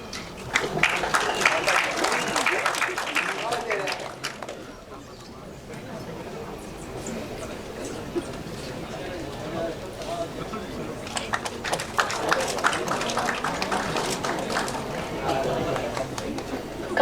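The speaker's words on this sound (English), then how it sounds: "Kindly give a big round of applause as we present a memento to all the guests." An audience at an inaugural ceremony applauds while mementos are presented to guests. Bursts of clapping open and close the stretch, with a quieter lull between them, and people speak over the applause.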